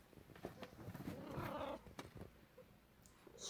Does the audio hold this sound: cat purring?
yes